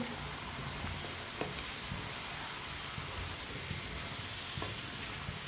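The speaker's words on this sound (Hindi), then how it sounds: "शलजम डाल लेंगे, अच्छी तरह मिक्स कर लेंगे।" Cut turnip pieces tossed into a pot and stirred, giving a continuous hissing crackle with occasional scraping knocks, moderately quiet and steady throughout.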